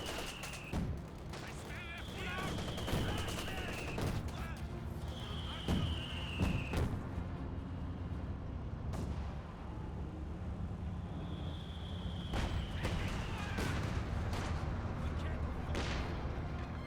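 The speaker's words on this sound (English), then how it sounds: "Penal Squall is getting suppressed by the MG34." Machine-gun bursts from a German MG34 crackle through the din of a Company of Heroes 2 battle, mixed with rattling gunfire, explosions and whining projectiles amid continuous loud combat noise.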